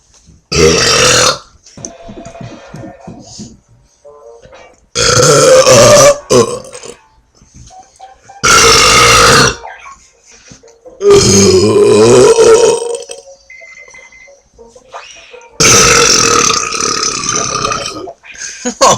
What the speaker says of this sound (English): we're gonna do a burping burping contest